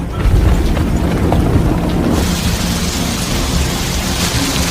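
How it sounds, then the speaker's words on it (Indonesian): Heavy rain pours in a loud, dense roar with thunder rumbling through it, steady from start to finish with no voices. "tiba-tiba saja hujan datang"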